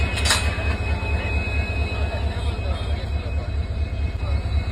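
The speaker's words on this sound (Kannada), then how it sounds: "ಈಗ ಸೋಲಾಪುರದಿಂದ ಬಂದಿರ್ತೈತ್ರಿ ಎಲೆಕ್ಟ್ರಿಕ್ ಲೋಕೋಮೋಟಿವ್." The Solapur–Hassan Express, hauled by an electric locomotive, rolls through Yeshwantpur station with a close, rhythmic low rumble of wheels over rail joints, beating steadily throughout.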